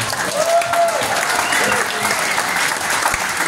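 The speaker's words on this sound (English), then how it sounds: "give him a round of applause" An audience claps steadily, a full round of applause with a few faint voices mixed in.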